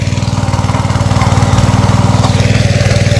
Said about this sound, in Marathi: इकडे ट्रॅक्टरने चिखल पाडतायत